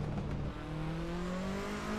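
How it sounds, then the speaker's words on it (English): Turbocharged rally-style race car in the Assetto Corsa racing game, a steady engine drone climbing in pitch under acceleration, with a thin turbo whistle riding above it, loud and close. "listen to that turbo."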